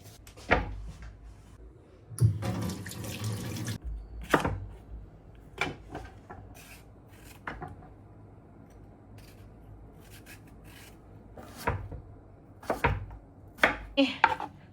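A knife chops cucumber on a cutting board in a home kitchen, a few close irregular bursts of sharp taps separated by pauses.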